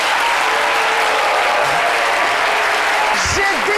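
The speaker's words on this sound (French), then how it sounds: "Ils sont debout, ils applaudissent, ils sont contents d'être là" A standing studio audience on a midday talk show applauds steadily and loudly, and the dense clapping fills the whole stretch. A voice speaks briefly over the applause near the end.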